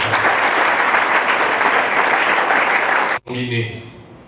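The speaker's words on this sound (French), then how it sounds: "Est-ce que nous pouvons encore acclamer pour ça?" Audience applauding at a school scholarship and supplies award ceremony, steady dense clapping filling the hall for about three seconds before cutting off abruptly, followed by a brief tail of voices and murmur.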